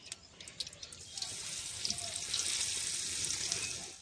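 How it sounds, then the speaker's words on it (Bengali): Steady, fairly loud sizzle of bread frying in hot oil, building slightly and holding, with a few soft taps at the start. "সব ব্রেড ভেজে নেব।"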